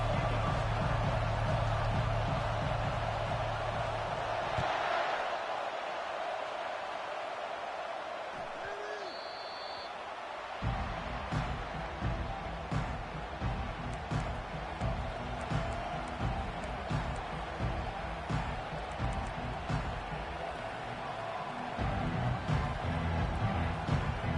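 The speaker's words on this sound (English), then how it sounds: "This crowd bringing an ear-splitting welcome to their visitors." Stadium crowd noise from an EA Sports College Football video game, a steady roar throughout with louder swells at the start and end, heard as a pregame welcome before the Ducks' opening kickoff.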